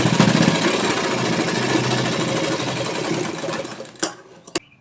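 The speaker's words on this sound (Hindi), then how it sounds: "दोनों तरफ से हम सिंपल सिलाई लगा लेंगे और नेफा को फोल्ड करेंगे।" A sewing machine stitches a salwar waistband, running loud and steady with a fast mechanical rattle for about four seconds, then stopping with a couple of sharp clicks.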